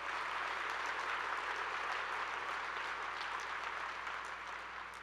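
An audience at an all-college day gathering gives a sustained round of applause, thick and continuous from a large crowd, slightly distant, tapering a little toward the end.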